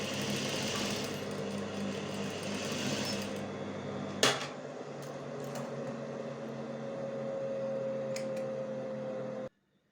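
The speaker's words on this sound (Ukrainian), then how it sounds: "Складаємо дві деталі лицем всередину, урівнюючи зрізи прокладаємо строчку, не забуваючи про закріпки." A sewing machine stitches a seam joining two fabric pieces placed face to face, with backtacks at the ends, running as a steady continuous whir for most of the clip with one sharp click midway, then stopping abruptly.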